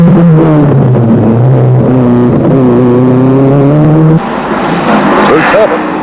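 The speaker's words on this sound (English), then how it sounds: "Bruce Herbert, Subaru, chasing the Nissan down the slippery mountain road." Rally cars on a slippery mountain stage of the 1996 Snowline Rally at Ohakune, a Subaru chasing a Nissan downhill, engines droning and revving loudly and steadily, with a commentator's voice over them.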